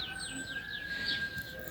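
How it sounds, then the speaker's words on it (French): Small birds chirping in a garden corner, repeated quick tweets and a thin sustained whistle, moderately close over faint background noise. "il y a tout le temps des oiseaux là, ici dans le petit coin"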